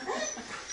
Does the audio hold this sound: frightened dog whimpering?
yes